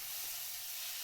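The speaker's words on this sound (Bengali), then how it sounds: "কষিয়ে নিচ্ছি কাঁঠালটা" Jackfruit frying with prawns in a pan over a clay stove gives a steady, even, bright sizzling hiss that holds alone throughout.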